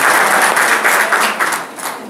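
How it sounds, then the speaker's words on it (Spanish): A crowd gathered at an event applauds, its steady clapping loud and close, fading slightly toward the end. "Un aplauso a Wilfrid."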